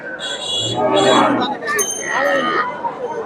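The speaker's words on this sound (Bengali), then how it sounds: "সুন্দর একটা সার বাচ্চা আর দেশি গাভী" Cattle at a cattle market, a bull calf and a local cow, with close lowing moos that rise and fall over steady crowd chatter and voices.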